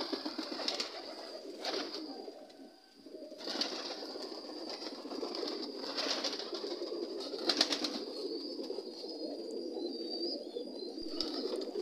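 Pigeons cooing inside a pigeon coop, a steady murmur of overlapping coos from many birds, with repeated rising calls standing out close by over a constant background of flock noise.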